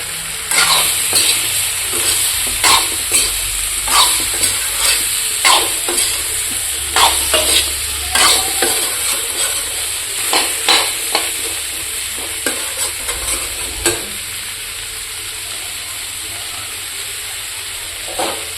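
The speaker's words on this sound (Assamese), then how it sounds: "এতিয়া ইয়াত হালধি নিমখখিনি দি অকণমান ভাজি ল'ম ভালকৈ" Turmeric and salt fry in a pan over low heat, a soft steady sizzle broken by regular scraping strokes of a spoon stirring, close and alone.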